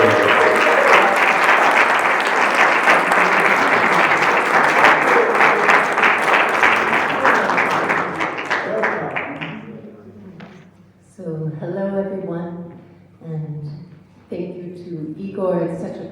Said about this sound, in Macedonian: еден голем аплауз за Шенон Салин